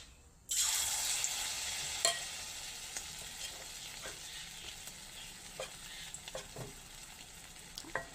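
Eggs coated in gram flour batter fry gently over a low gas flame, a soft steady sizzle that starts abruptly, with scattered pops and crackles and no voices.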